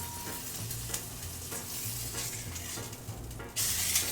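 Osso buco veal shanks sear in a hot pan before braising, giving a close, steady sizzle with intermittent scraping and shifting sounds, and the hiss flares louder near the end.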